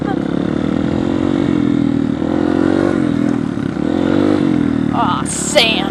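A dirt bike engine drones steadily and loudly up close on a sandy trail, its pitch wavering slightly with throttle, ending in a brief clatter and squeal.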